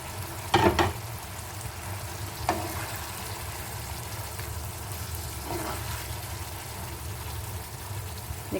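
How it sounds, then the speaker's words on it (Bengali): Fried okra stirred into a simmering yogurt masala, a low continuous sizzle and bubbling with a few sharp utensil knocks near the start and occasional stirring noises, close and fairly quiet. "এই জায়গায় ভেজে রাখা ভেন্ডিগুলো দিয়ে দেবো, যাতে মশলাগুলো ভেন্ডির মধ্যে খুব ভালোভাবে ঢুকে যায়"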